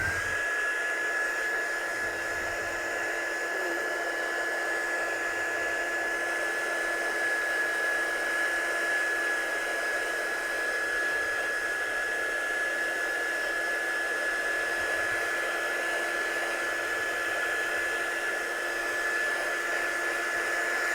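A hair dryer dries ink layers and embossing on a handmade card, blowing a steady, loud, unbroken whoosh with a constant high whine that runs the whole time without pause.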